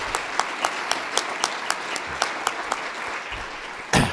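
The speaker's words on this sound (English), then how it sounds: "I guess it's worth a bit of applause" An audience applauds together at a tribute gathering, a steady, moderately loud wash of many hands clapping with a few sharper individual claps standing out, ending in a brief louder burst.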